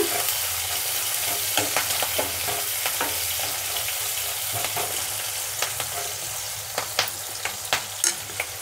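Onions and green chillies fry in a pan with garlic for a bottle gourd and moong dal curry, a loud, steady close sizzle with occasional soft scrapes and clicks of a stirring spoon.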